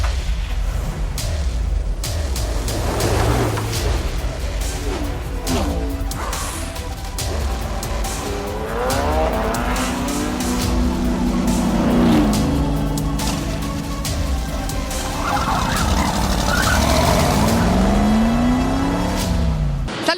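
Race cars, jets and pickups roar and rev at a drag racing event in Miami, with loud continuous engine noise, sweeping passes and surging acceleration and no talking.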